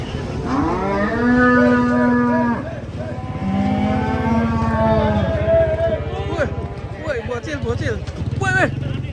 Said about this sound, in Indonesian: Banteng hitam